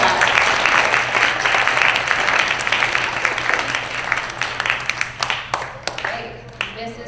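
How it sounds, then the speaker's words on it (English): A school audience applauds a student of the month, a full round of clapping that thins out near the end into scattered individual claps, with a low steady hum running underneath. "Let's give Karam a nice round of applause"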